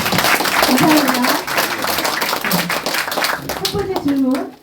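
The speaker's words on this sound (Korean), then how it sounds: "그럼 박수로 시작할까요?" An audience at a Q&A event on election fraud claps in a dense, continuous burst that is loudest early on and slowly tapers. A voice talks over the clapping throughout.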